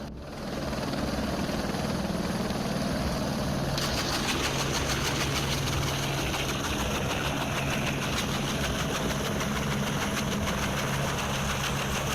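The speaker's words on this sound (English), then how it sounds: "This is the first test landing of the Airbus helicopter of Manang Air" An Airbus helicopter of Manang Air touches down at an airport on a test landing, with a loud, steady engine drone that runs unbroken and close throughout.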